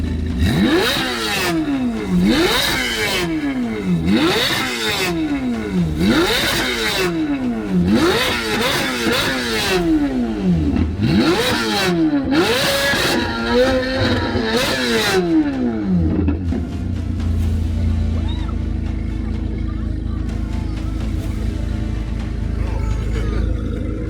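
A Chevrolet Corvette C8 Z06 engine revs hard through repeated full-throttle climbs, the pitch sweeping up and dropping about ten times in quick succession, loud and close, then settling into a lower, steady rumble at the end.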